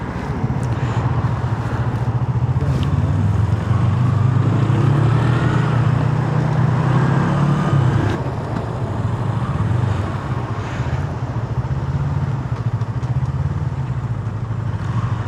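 A motorcycle ridden along a road in South Korea gives a steady, loud engine drone mixed with rushing wind noise, continuous throughout without a break.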